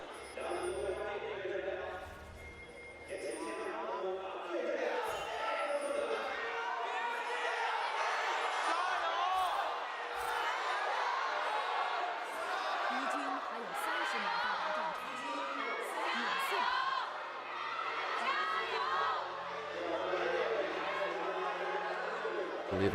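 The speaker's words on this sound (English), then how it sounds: "Loud crowd, as it should be for the finals" A loud arena crowd at the LPL finals esports event roars and chatters steadily throughout, with whoops rising above a dense wall of cheering and voices.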